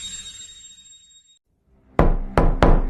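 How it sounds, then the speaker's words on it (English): Three sharp, loud knocks on a door in quick succession after a quiet stretch, preceded by a faint fading tone. "A knock at the door."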